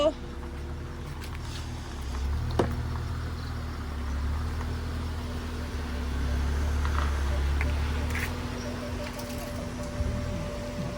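A car is driven slowly and parked, its engine a steady low hum throughout with a brief knock early on, while people talk over it.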